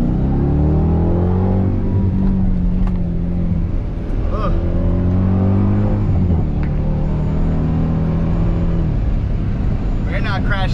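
A supercharged Dodge Durango Hellcat engine drones and rumbles steadily in traffic, close and loud from inside the cabin, with pitch rising and falling as it revs while people talk over it.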